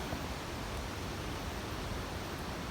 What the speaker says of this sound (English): I can hear the road in the distance